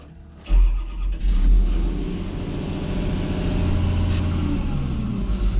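A John Deere 333G skid steer engine runs steadily, starting with a sharp rise as it comes up to speed, then holding a loud, rough low-pitched drone close by with small fluctuations and no talking.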